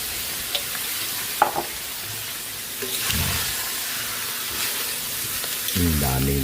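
Vegetables for pansit bihon canton hit a hot pan with a continuous loud sizzle and hiss, stirred with occasional scrapes, and a voice briefly murmurs near the end.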